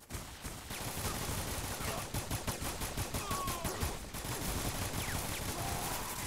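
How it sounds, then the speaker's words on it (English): Rapid gunfire in the video game 50 Cent Bulletproof, sustained bursts of automatic shots cracking in a fast steady rhythm for several seconds, loud and dense, with a brief pause partway through and no talking. "I think I'm getting shot from behind."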